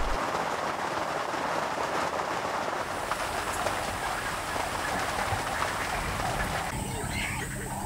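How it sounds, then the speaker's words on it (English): A short downpour falls in the African bush, making a steady, even hiss of rain across the whole stretch that never builds or fades. "These short bursts of rain often last only 10 or 15 minutes at a time."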